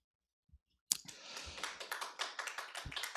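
Audience applause after a philosophy lecture at a public forum, starting abruptly after a brief silence and continuing as a steady patter of claps, moderately close but fairly quiet.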